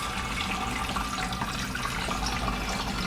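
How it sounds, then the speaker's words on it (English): Water poured steadily into the tank of a Coolfiqu cool-mist humidifier, a continuous even splashing and gurgling rush lasting throughout, close and moderately quiet with no talk. "you're going to see as the water goes in, not only is it going to go in, it will go around"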